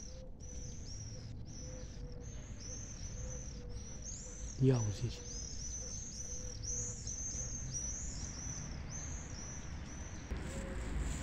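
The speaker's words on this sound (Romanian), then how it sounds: "sunetul păsărilor minunate al dimineții" Many birds chirp and trill in overlapping calls on a spring morning in a city, bright and lively, while someone speaks briefly partway through.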